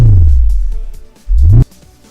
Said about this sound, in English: bassy sound, that weird sound that symbolizes the entering and exiting the bullet time